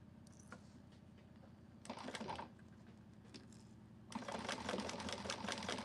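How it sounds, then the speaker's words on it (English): Sewing machine stitching a small tab for a quilted manger bag, with a rapid mechanical chatter that runs steadily, pauses briefly, then surges louder and busier toward the end; no talking. "So let's go ahead and sew the other little tab."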